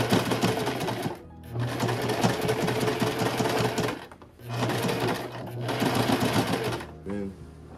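Sewing machine running in long steady bursts stitching denim fabric for flared jeans, loud and close, with brief pauses between runs and a softer stop near the end.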